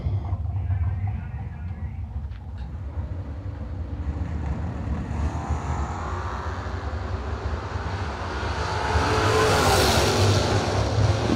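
A Chevrolet Malibu and a Camaro launching together at a drag strip, a loud sustained engine roar that holds steady and then swells brighter and more intense near the end, heard from a distance with no voices.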